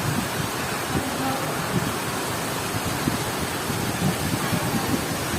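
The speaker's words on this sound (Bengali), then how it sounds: "পুরা বৃষ্টিতে সব অন্ধকার হয়ে গেছে।" Heavy rain driven by strong cyclone wind sweeps around a school, a dense, constant roar of water with gusty low rumbling swells, loud and close throughout.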